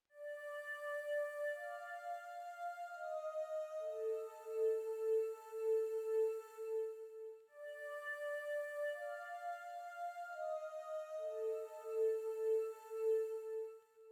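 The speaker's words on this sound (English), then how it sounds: "I'm using the Angel's choir and it sounds like this." Angel's choir synth layered as a melody in an FL Studio ambient beat: airy sustained vocal-like notes stepping through a short repeating phrase, played twice in a steady loop.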